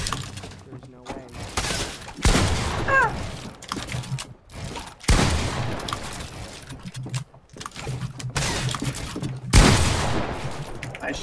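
Repeated gunfire bursts from the video game Fortnite during a boxfight, sharp loud volleys recurring every few seconds, mixed with game effects and voices talking over them.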